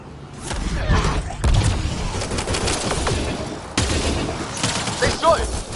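Sci-fi gunfire from Mass Effect Andromeda crackles in dense, repeated bursts of shots and thuds, with voices talking over the firefight.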